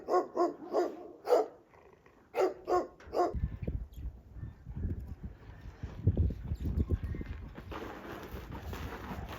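A small dog on a farm stay in the countryside of northeast China barks about eight times in sharp, close bursts, then falls quiet as steady outdoor rustling and scuffing take over.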